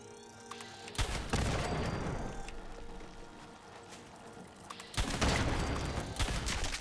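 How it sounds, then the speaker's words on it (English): Sustained automatic gunfire in Fallout 76 as Mirelurks are shot in the head, two long loud rattling volleys with a lull between them over steady game background noise. "Just shoot these guys in the head."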